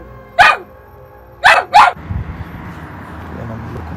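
A dog barks three times nearby, one sharp bark then a quick pair, loud against a quiet room with faint background noise afterward.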